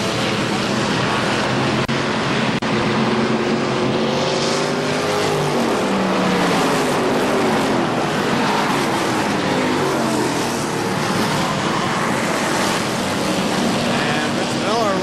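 Race cars roar down the front stretch at KilKare Speedway, a loud continuous wash of engines rising and falling as the pack passes, with a track announcer calling the action over it.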